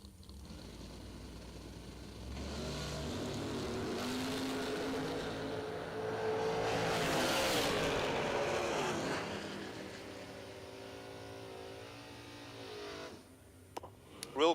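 A Corvette Roadster drag races down the track, its engine noise swelling from a distant rumble to a loud roar mid-run, then fading away, with a brief clatter at the end.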